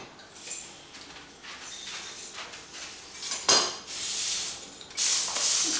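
Metal cutlery clatters in a kitchen drawer as a knife is fetched while making sausage rolls, with soft rummaging, a sharp clink, then louder jangling scrapes close by.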